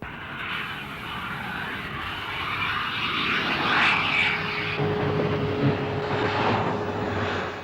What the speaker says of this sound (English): RAF Phantoms are now stationed at Stanley